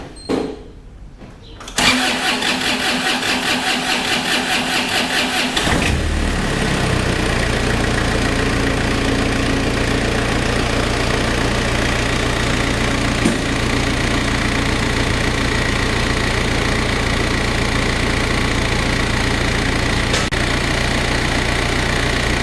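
Engine that has just been flushed with diesel fuel cranks for a few seconds, fires up, then settles into a steady, loud, knocking idle that runs on without a break.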